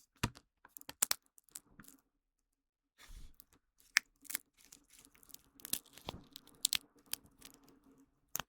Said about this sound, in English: I have a bag of peanuts. Eat these peanuts.